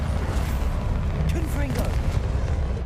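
A Bombarda blasting spell goes off in a video game, a rumbling boom with a brief rising whoosh, sounding under ongoing speech.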